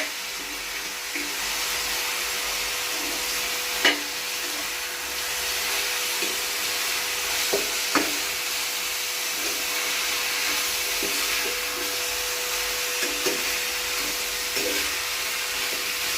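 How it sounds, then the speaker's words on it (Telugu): Cauliflower (gobi) fries with onions in oil in a pan, a steady soft sizzling hiss throughout, punctuated by occasional faint clicks and knocks of utensils, with no talking. "ఇప్పుడు ఈ గోబీ పువ్వు దీంట్లో వేసుకుంటే ఈ ఉల్లిపాయలతో పాటు ఇది కూడా వేగుతుందండి నీట్గా."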